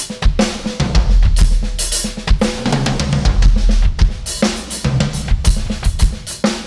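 A drummer plays an odd-time groove in 7 on a drum kit, loud kick and snare hits with busy cymbals repeating in an uneven, progressive rhythm, close and full throughout.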